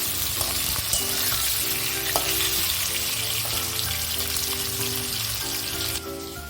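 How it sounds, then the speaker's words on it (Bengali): Potatoes fry in a pan with a strong, continuous sizzle up close, punctuated by scattered taps and scrapes of stirring, with a faint steady hum underneath. "যতক্ষণ আলুটা ভাজা হচ্ছে"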